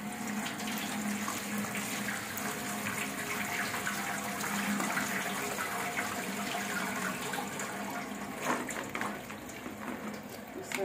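Vegetables, including green chilies and coriander, are rinsed under a running tap in a village kitchen, a steady broadband rush of water with splashing and shifting flow, continuous for the whole stretch with faint background activity.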